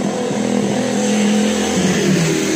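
KTM Duke 390 motorcycle fitted with a Remus S-Flow exhaust, engine revving loud and close, a steady throaty drone that steps in pitch partway through.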